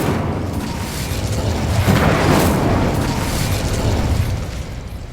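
A fiery whooshing blast from the Incendio spell in Hogwarts Legacy roars loud and close, swelling to a peak midway and then fading into a sustained rumbling rush.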